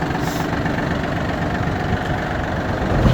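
A Yanmar AF322 compact four-wheel-drive Japanese mini tractor engine runs at a steady, smooth idle, a continuous low rumble that swells slightly at the end.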